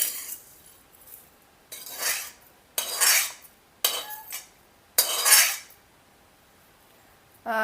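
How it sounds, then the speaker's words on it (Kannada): Roasted tomato rasam ingredients scraped and tipped into a steel mixer jar, heard as four or five separate bursts of close metallic clinking and scraping with quiet pauses between, no voices. "ಈಗ ಹುರ್ಕೊಂಡಿರುವಂಥ ಎಲ್ಲ ಇಂಗ್ರೀಡಿಯೆಂಟ್ಸ್ನು ನಾನು ಮಿಕ್ಸಿ ಜಾರ್ಗೆ ಸೇರಿಸ್ಕೊಳತ್ತೇನೆ"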